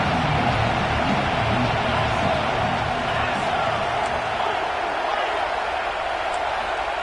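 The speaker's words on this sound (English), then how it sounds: "This crowd ready to make its presence known." A stadium crowd at a football game keeps up a dense, continuous roar for the whole stretch, loud and steady, while a commentator talks over it.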